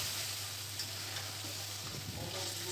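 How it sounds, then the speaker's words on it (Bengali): Onion cubes are stirred into a frying chicken curry, giving a faint, steady sizzle with soft scraping of the stirring spoon, close and without talking. "পেঁয়াজ কিউব দিয়ে একটু নাড়াচাড়া করে নিলাম"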